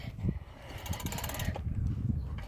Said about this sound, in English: That noise is from the bike